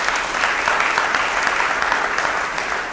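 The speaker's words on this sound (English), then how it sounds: "have a round of applause for our business administrator" A crowd at a Paterson mayor's 100-day event gives a round of applause for the business administrator, steady and fairly close clapping that fills the moment without pause.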